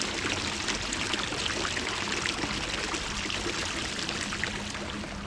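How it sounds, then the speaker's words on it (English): Water runs steadily from a fountain in Regent's Park among spring cherry blossom, a constant even rush with no talk. "the gentle running of water from a fountain behind us"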